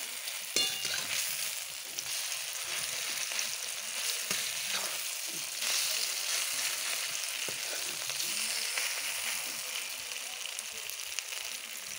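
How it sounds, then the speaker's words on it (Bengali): Sesame fritters (tiler bora) sizzle and crackle steadily in hot oil, a dense, continuous frying hiss with small pops throughout and no voices. "চলো তিলের বড়াগুলো দেওয়া হয়ে গেছে তেলে"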